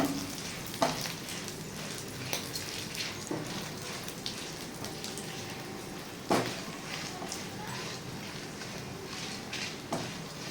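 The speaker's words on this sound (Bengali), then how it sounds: "এটাকে কড়াইতে ভেজে নিচ্ছি।" Ingredients frying in a kadai (wok) give a steady, close sizzle, broken by a few sharp knocks and scrapes of stirring, with no voices.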